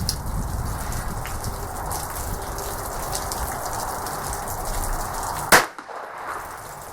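A single sharp gunshot from a North American Arms Mini Mag revolver firing magnum rounds cracks out loudly at an outdoor range, standing out once against steady background noise, with a short echo trailing off.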